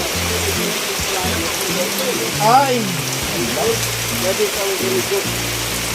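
Very heavy rain pours down steadily at a housing project, a dense continuous roar with a voice briefly calling out over it.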